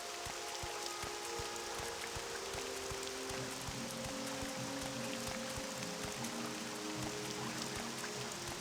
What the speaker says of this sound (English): Hope you all like the sound of the rain